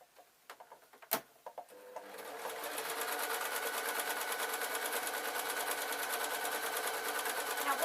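Sewing machine running a straight stitch along a seam on trousers with lining: a few soft clicks and handling taps, then a steady rapid mechanical whir that settles into an even, continuous rhythm at moderate, close volume.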